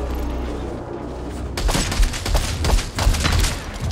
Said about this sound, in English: Okay, sniper rifle doing work, actually.